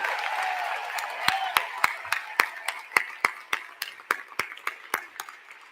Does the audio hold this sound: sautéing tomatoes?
no